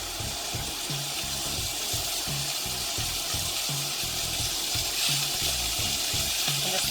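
Wagyu smash burger patties frying in an oiled pan, a dense, continuous sizzle with low rumbling underneath, steady and fairly close throughout.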